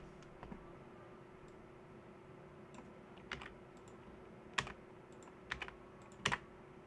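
Network configuration commands being entered on a computer keyboard during CCNA router training: sparse, close keystrokes tap out in small clusters over a faint steady background hum.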